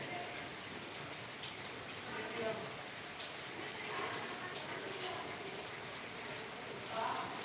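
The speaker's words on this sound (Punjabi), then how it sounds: "ਆ ਦੇਖੋ ਮੀਂਹ ਜਿਹੜਾ ਪੈ ਰਿਹਾ" Steady rain patters and hisses on surfaces, a continuous soft wash of drops at moderate distance.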